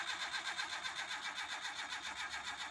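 A starter cranks an engine that has just had its carburetor fitted and is flooding and refusing to start, making a fast, rhythmic whirring churn that pulses evenly and close by.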